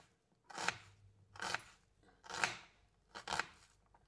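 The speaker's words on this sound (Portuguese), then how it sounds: "Eu pego meia cebola roxa todo dia, meia cebola roxa. Tento cortar bem fininho, né?" A knife thinly slicing half a red onion on a board: four evenly spaced, crisp cuts sound close and quiet, with no talking.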